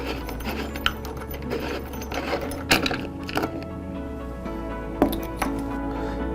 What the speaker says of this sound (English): insert your key partial way and rotate counterclockwise until your cylinder unthreads